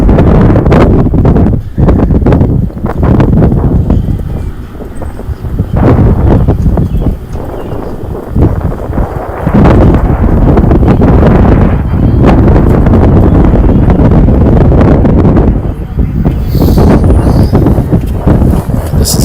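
Strong wind buffeting the microphone at an outdoor high school soccer game, a loud continuous rumbling roar with gusty surges and rustling throughout, no clear voices.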